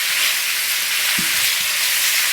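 Shrimp and cauliflower fried rice frying in a pan, giving a loud, continuous close sizzle with a brief stirring knock near the middle.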